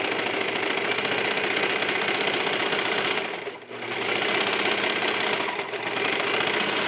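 A sewing machine stitches a sports bra with right sides together, running at a steady fast whir close by, pausing briefly twice before resuming.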